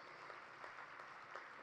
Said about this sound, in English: Definitely calls for a big round of applause